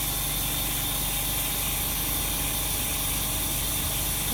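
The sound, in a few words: vacuum on a flex cable laminating machine EN-601T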